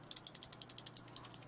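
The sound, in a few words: Kailh mechanical keyboard switches being pressed, dull sound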